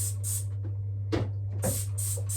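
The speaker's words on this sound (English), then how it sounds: "Let me spray some bleach in the meantime." Bleach cleaner sprayed in a kitchen sink gives several short hissing bursts from a trigger spray bottle, close and fairly quiet over a steady background hum, with a gap in the middle.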